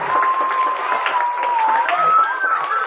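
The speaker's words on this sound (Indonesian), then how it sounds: "Tepuk tangan buat ibu kepala sekolah." A crowd at a school Isra Mi'raj event applauds for the headmistress with steady clapping throughout, while a voice talks over it and a high electronic tone wavers.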